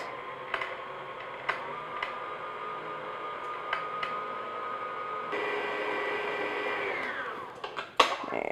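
Electric mixer on low beating flour into pumpkin cake batter, a steady motor whir with periodic ticks as beaters knock the bowl, rising in speed near the end.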